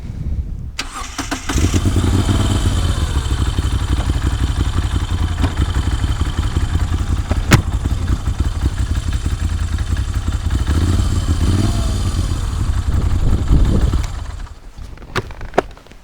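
A Moto Guzzi V7 motorcycle engine starts and runs with a steady, clattering, mid-pitched throb close by, then shuts off near the end.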